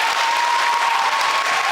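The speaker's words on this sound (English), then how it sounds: "let's have a round of applause for our 4th and 5th grade teachers" At a school band concert, a crowd claps for the teachers in a loud, dense, continuous burst of applause lasting under two seconds.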